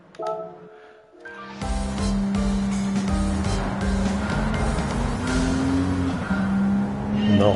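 A Jaguar E-Type revs up and accelerates hard in the Gran Turismo 7 racing game, a loud, close engine roar that rises and holds, with tire squeal and shifting pitch, after a quieter start.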